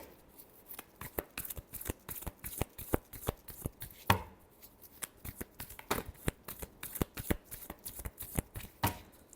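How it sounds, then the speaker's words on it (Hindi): Tarot cards shuffled by hand, a long run of sharp, crisp riffling snaps and slaps coming in quick irregular bursts, close and clear with no voices. "last shuffle"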